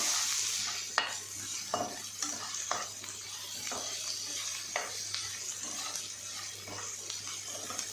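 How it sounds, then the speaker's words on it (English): Ginger garlic paste fries with browned onions in a pan, a soft steady sizzle broken by scraping stirs and light clicks of a spoon against the pan, faint and close, without talk. "Now add ginger garlic paste. Stir it well until you get a good aroma."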